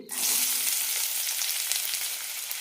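Small onions (shallots) fry in two tablespoons of ghee in a pan, giving a steady, close, bright sizzle that holds evenly throughout with no talking.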